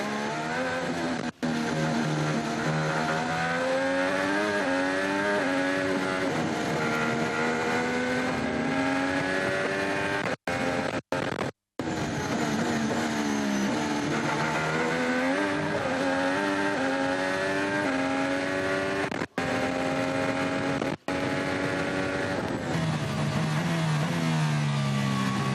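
Formula 1 race cars at the 2015 Australian Grand Prix scream at high revs in an onboard view, pitch rising and dropping sharply through gear shifts and corners, loud and continuous with brief cutouts.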